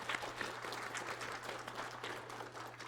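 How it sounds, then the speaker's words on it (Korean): A church congregation clapping to welcome a visitor during a Sunday worship service, soft, somewhat distant applause of moderate density over a low steady hum. "박수로 환영하도록 하겠습니다."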